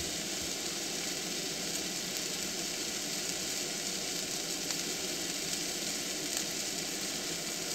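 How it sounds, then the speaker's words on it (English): A frying pan sizzles steadily in a truck cab, with constant crackling and hissing at moderate level throughout and no talk. "Sound of that pan sizzling is making you so hungry."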